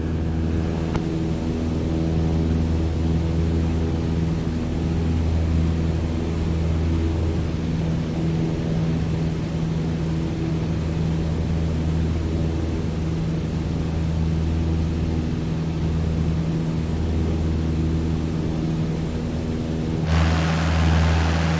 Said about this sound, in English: you all should still be able to hear me over engine noise